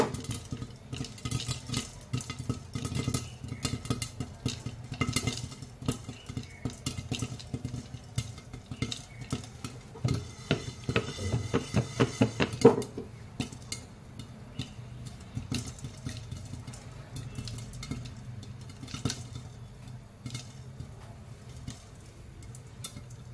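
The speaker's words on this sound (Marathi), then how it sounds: "असंच आपण याला मधनं असं हलवत राहणार आहोत, जेणेकरून ते खाली लागणार नाही" Jowar (sorghum) grains puff and pop in a pan while being stirred, a dense run of close crackles and tiny clicks over a faint scrape, busiest in the middle before thinning out.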